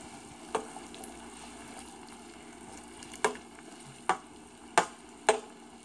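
Mashed green plantains with red onions stirred in a pan, a low steady sizzle broken by five sharp, evenly loud scraping knocks of the spoon against the pan, close up.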